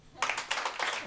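An audience at a Romanian stand-up comedy show claps in short, irregular bursts after near silence. A few loud, close hand claps come in uneven clusters over about a second.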